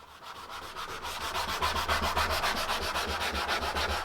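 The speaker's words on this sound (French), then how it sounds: "Le ponçage se pratique le plus possible dans le sens du fil du bois." Abrasive paper sanding wood along the grain, heard as a steady run of close, rhythmic back-and-forth rasping strokes, loud and continuous with no voices.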